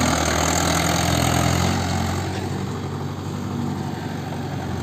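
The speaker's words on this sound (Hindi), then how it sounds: "मस्त 4x4 है, बड़ा ट्रैक्टर है भाई" A Mahindra 575 4x4 tractor idles close by, its engine holding a steady, dense rumble with a slight drop in loudness partway through, and no talk over it.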